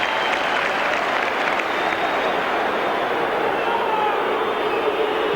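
Football crowd at a Premiership match between Sheffield Wednesday and Newcastle United applauding a player leaving the pitch, a loud, dense, unbroken roar of clapping across the stadium.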